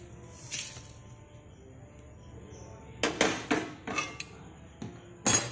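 A pan of fried spices is lifted off the stove: a few quiet scrapes early, then a cluster of sharp, close metallic clanks and knocks in the last few seconds.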